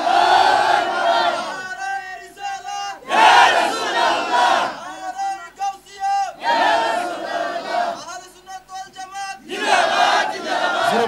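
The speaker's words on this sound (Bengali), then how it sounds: "একটা তাকবীর দাও জোরে" A large gathering at a Bengali religious sermon loudly chants the takbir in unison, several powerful call-and-response waves of many voices separated by short gaps, near and strong.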